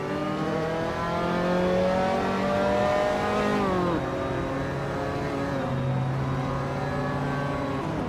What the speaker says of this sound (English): the race has just kicked off at Dover International Speedway